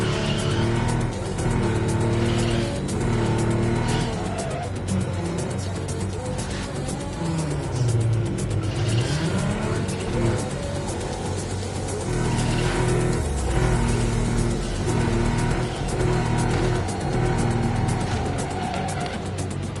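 Engine roar from a driven car in the video game NTE, with repeated loud tire squeals and skids sliding up and down in pitch over a steady, continuous motor drone, no talking.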